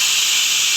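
A pressure cooker whistles on a home kitchen stove while a lentil curry is being prepared, giving a steady, loud, hissing steam jet that runs unbroken and close by for the whole moment.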